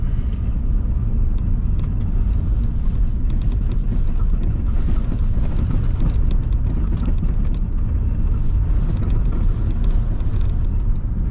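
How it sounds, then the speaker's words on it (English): Wind roars and buffets around a moving car, a loud steady low rumble of road and air noise throughout with slight surges, no talking. "Nice wind."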